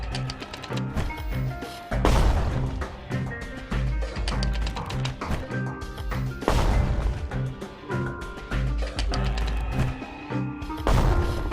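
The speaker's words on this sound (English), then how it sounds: "Bomb barrage. It's going to be huge damage, this one. Throws so many of them at once." Rapid volley of mortar bomb blasts from a bomb barrage in the action game Bastion, sharp thwacks and booms landing in quick succession over steady game music, with bigger bursts at intervals and no talk.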